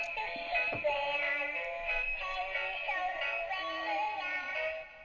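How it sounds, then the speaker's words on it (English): A small Chinese toy plays a simple electronic tune, captured on a phone, with a child humming along; the bright melody runs steadily at moderate volume with a few soft knocks. "So my kids had this little Chinese toy and it played this little"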